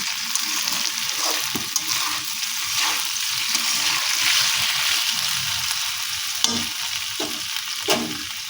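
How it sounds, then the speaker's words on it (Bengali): Drumstick flowers fry in a pan with a steady sizzle while a spoon stirs through them, scraping and clacking in a few distinct strokes, close and continuous with no talking. "এখন এটাকে ভালো করে একবার নেড়ে নিচ্ছি"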